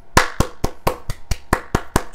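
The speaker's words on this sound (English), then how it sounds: "can we get a round of applause?" A steady run of ten sharp hand claps at an even, brisk rhythm, close and loud, with no voices.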